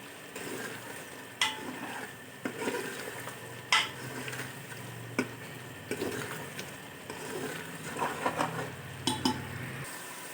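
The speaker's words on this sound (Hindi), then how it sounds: "अब इसको मैं 5 मिनट के लिए भूनूंगी अच्छी तरह इसको," Goat meat browning in hot oil in a cooking pot for a turnip and meat curry, with a steady low sizzle under repeated scraping and clinking of a spoon against the pot.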